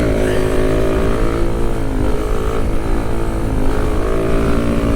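A Kawasaki Z125, a small 125 cc motorcycle, revs hard in third gear on a stretch of road while attempting a wheelie, its engine droning loud and close without letup.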